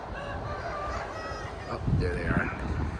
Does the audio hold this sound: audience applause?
no